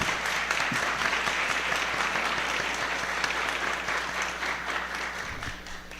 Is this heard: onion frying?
no